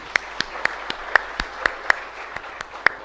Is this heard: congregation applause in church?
yes